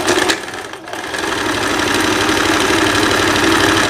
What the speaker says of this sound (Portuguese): Vou costurar já as laterais da blusa.